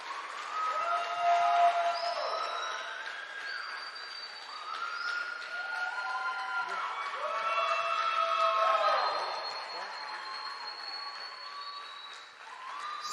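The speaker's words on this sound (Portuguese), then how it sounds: "Eu queria que vocês dessem uma salva de palmas para Pedro" A church congregation applauds for a missionary, the clapping steady and fairly loud throughout, with shrill whistles and cheers rising above it and a brief dip near the end.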